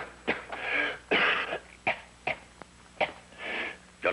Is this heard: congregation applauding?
no